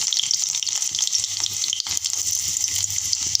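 Onion fries in hot oil with a continuous close sizzle and crackle, mixed with small bubbling pops and a few light clicks of stirring, for a village-style cowpea usal.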